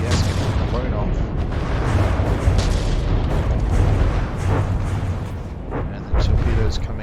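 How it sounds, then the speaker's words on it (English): In the From the Depths game, a vehicle's rear APS is blown off amid heavy battle noise: deep booming blasts and rumbling fire roll on continuously with loud low-end weight, one stronger thump partway through. "And the back APS getting blown off."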